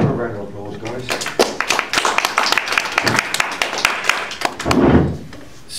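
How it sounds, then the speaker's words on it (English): Audience at a magic society night in Cardiff claps in a dense burst of applause, loud and continuous for several seconds, with a few voices mixed in before it fades. "A round of applause, guys."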